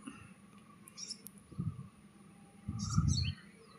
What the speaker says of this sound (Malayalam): നല്ല കിളികളുടെ ശബ്ദങ്ങളൊക്കെ കേട്ടോ കുരുവികളൊക്കെ ഉണ്ട് കേട്ടോ